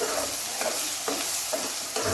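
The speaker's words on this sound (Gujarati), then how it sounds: "એટલે હલાવી નાખીએ આપણે આને." Egg curry masala being stirred in a pan, soft rhythmic scraping strokes about every half second over a faint steady sizzle, close and quiet.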